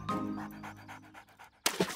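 A cartoon boy imitates a dog's panting in a bath, rapid rhythmic breathy huffs close up, ending with a sharper excited burst.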